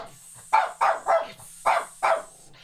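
Five sharp barks from two dogs in quick succession, fairly close, with a steady low hum underneath and no talking.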